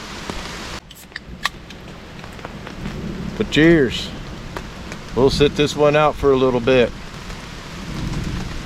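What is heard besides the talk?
thunderstorm with rain and thunder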